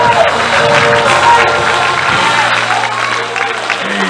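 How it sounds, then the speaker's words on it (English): A church congregation claps along in praise during a Mother's Day service, steady dense handclaps filling the room with voices and music mixed in throughout. "Use your hands and then use your mouth. Hallelujah. As you clap your hands."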